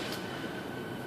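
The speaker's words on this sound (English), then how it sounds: "This is a Siemens Nexas train." A steady, moderately quiet rumble fills the interior of a Siemens Nexas passenger train carriage while it is moving, with no voices and no distinct clicks or squeals.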